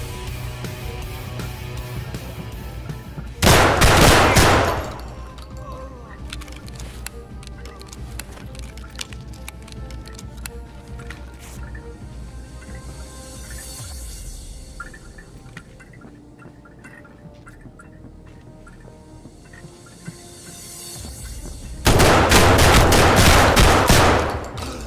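Gunfire in the video game Escape from Tarkov: one loud burst of shots near the start and another heavy volley near the end, with quieter game ambience between them.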